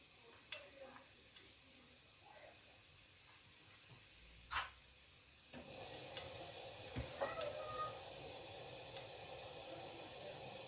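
Two slit green chilies frying in a few tablespoons of hot oil for a Goan pork belly stew. A faint, low sizzle is broken by scattered small pops and crackles, with a slightly louder burst near the end.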